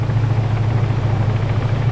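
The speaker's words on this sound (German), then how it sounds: "Der Helikopter kommt zurück." Helicopter in the video game Arma 3, a steady loud low rotor thrum with engine drone, continuous and fairly close throughout.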